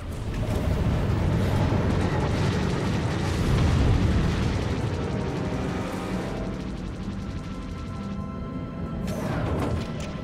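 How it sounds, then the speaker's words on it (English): Missiles slam into their target in a video game, setting off a sustained, loud barrage of booming explosions and crashing debris that rumbles on continuously, easing slightly before a final burst swells near the end. "Missiles coming right for us."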